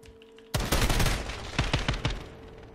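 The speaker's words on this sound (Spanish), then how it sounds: "Me están disparando." Loud bursts of automatic gunfire from a firefight in Call of Duty: Modern Warfare (2019) erupt suddenly after a brief quiet, then continue as rapid, close volleys with no talk over them.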